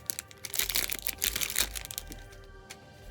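A deck of Magic: The Gathering cards gets a quick shuffle at a casual Commander game, a burst of close, crisp riffling and crinkling card flutter that rises and then fades off.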